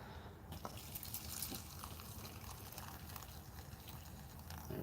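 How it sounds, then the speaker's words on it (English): Water pours steadily into a cold weather ration pouch, a soft continuous trickle close by and fairly quiet, ending with a small rustle. "5 ounces of water going to this."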